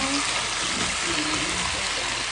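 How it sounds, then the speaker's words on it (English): Hot water pours steadily into a pot while Jamaican curry chicken cooks over a flame, a continuous close splashing trickle that runs the full stretch without pause. "I'm going to put on some hot water"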